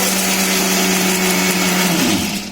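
An electric blender grinds roasted, skinned peanuts in a steady, loud whine with a constant motor tone, pitch dipping slightly as it winds down at the very end.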